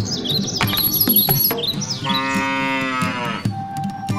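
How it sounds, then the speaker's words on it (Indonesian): A cow in an animated children's story moos once, a long drawn-out low call close up, with birds chirping lightly around it. "Dan mereka membeli seekor sapi."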